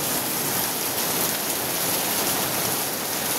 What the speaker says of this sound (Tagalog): Parang hail lang siya.